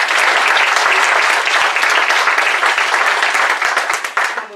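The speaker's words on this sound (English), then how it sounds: "Let's give them another round of applause." A large audience claps at a Silicon Valley leadership talk, thanking the guests with another round of applause. The applause is dense, loud and sustained, then thins out and fades over the last second.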